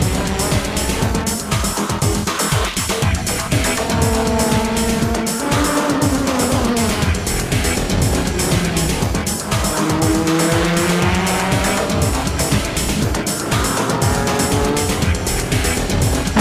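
JGTC race cars, a Toyota Supra fighting past a Porsche GT300 backmarker, roar loudly and continuously from an in-car view, engines rising and falling through gear changes with tire squeal and scraping contact.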